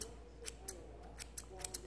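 Scissors still in packaging are handled up close, giving faint, scattered crinkles and sharp little clicks over a quiet room hum, with no talk.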